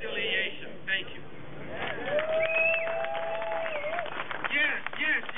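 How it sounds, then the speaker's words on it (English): Crowd applause and cheering at a community rally demanding answers over police killings, a steady wash of clapping from a gathered audience with voices calling out over it. "Give yourself a round of applause"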